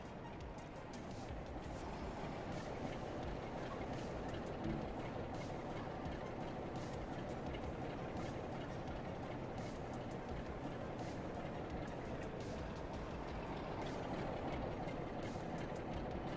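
Steady, continuous rumble of a train running in the video game Train Sim World 4, loud and unbroken throughout, with a low rolling drone and faint clattering on top.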